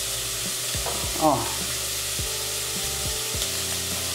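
Fish sizzles steadily frying in a hot pan, with a few knocks and scrapes of utensils and a short spoken word.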